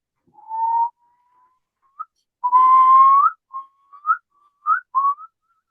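A person whistles an imitation of a curlew: a long rising note, then short upward-sliding phrases, clear and alone against silence.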